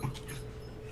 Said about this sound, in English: My dog just jumped up.